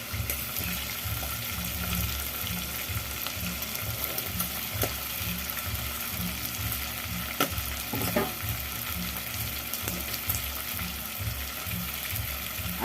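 Onion and garlic sizzle steadily in a hot pan, with regular stirring scrapes running throughout and no voices.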